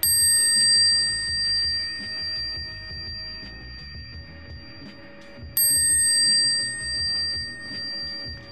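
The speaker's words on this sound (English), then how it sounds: "The best thing about a brass bell is how loud and clear the sound is." Brass bicycle bell rung twice, each a bright clear ding with a long ringing decay, the second strike about midway, over a soft background bed.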